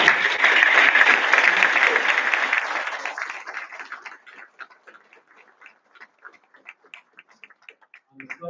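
A graduation ceremony audience claps loudly and densely at first. The applause thins out over a few seconds into sparse, scattered claps, then fades almost to nothing.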